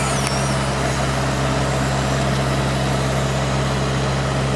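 A Nifty SD64 lift's hydraulic jib rotates upward, heard as a steady, loud mechanical drone with an engine-like low rumble that holds evenly throughout, no voices over it.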